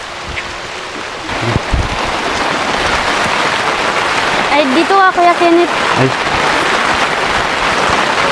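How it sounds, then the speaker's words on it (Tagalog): Heavy rain pours down steadily as a dense, continuous hiss, with people talking briefly over it. "Umulan tayo kasi lakas na lang ng ulan."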